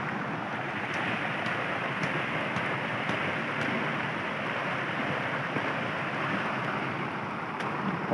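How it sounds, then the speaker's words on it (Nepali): Heavy rain pours steadily outdoors in Nepal during a fishing outing, a dense, loud, continuous hiss with no gaps and no voices. "धेरै पानी परेको छ गाइस"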